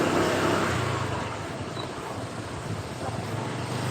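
A motorbike passing along a road during a street event, a broad engine and tyre roar that is loudest at the start and fades into a steady traffic rumble.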